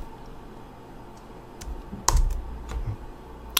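A line of code is typed on a computer keyboard, with a short burst of crisp keystroke clicks heard up close and alone after a brief quiet stretch.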